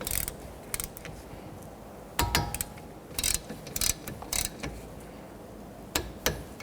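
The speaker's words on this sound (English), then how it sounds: "we're going to tighten these down and then torque them to 25 foot-pounds" Wrench tightening and torquing hub bolts on a 1992-1996 Toyota Camry, scattered sharp metallic clicks and clanks in short bursts over a quiet background, no talk.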